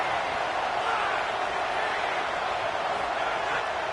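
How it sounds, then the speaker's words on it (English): A stadium crowd roars in a college football video game, a dense, steady wall of cheering that holds at full strength without a break. "Listen to this crowd just shaking the girders of this place"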